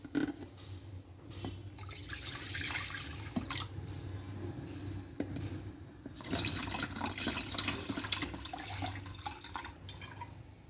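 Poppy seeds rinsed in water to wash out soil and stones, with steady splashing and trickling and louder pouring surges near the end, close and continuous.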